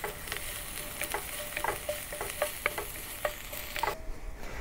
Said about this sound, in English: Add the chopped garlic and saute over a low heat until aromatic.